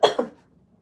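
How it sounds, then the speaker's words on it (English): A single person coughs twice in quick succession, close and fairly loud, with a short fading tail and no talking. "I've been coughing."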